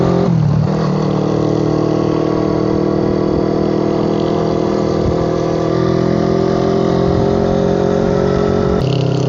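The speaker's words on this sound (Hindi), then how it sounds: "इंजन बहुत रिफाइन है इस मोटरसाइकिल का।" Suzuki Inazuma 250 motorcycle engine running close by, a loud, steady, refined hum with a slight rise in revs held throughout and no talking.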